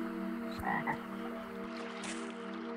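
A frog croaks in the video game Natural Threat: Ominous Shores, a few short croaks over a steady hum of droning game ambience.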